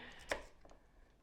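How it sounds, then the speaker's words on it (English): A single sharp knife chop slices through peeled potatoes being cut into roughly inch-sized cubes on a board, one crisp close knock followed by quieter faint cuts. "I'm going to chop them into cubes"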